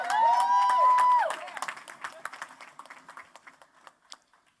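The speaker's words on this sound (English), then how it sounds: "Give yourselves a round of applause." An audience at a mayoral campaign announcement in Detroit claps in scattered bursts that thin out and fade, following a brief tonal electronic sound at the start.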